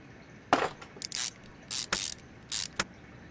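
Brake pads come off with tools in the Car Mechanic Simulator game as a series of short, crisp mechanical bursts: spray-like hisses and ratcheting clicks, several in quick irregular succession over a quiet background.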